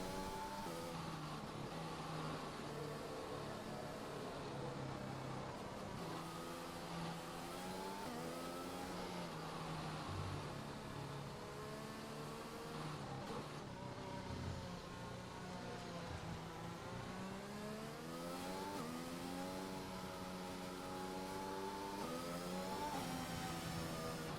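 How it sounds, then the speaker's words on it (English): Race car engines from a sim racing video game drone steadily for the whole stretch as cars head into the pits under a safety car at the Spain round, pitches rising and falling in overlapping whines, with no talk. "We can see plenty of cars going into the pits on lap 14 for the safety cars."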